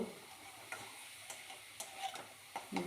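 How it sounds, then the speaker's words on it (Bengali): Chopped banana flower being stirred and fried in a pan, with faint sizzling under scattered scrapes and taps of the spatula at an uneven pace. "ভালোভাবে নাড়াচাড়া করে ভালোভাবে ভেজে নেব"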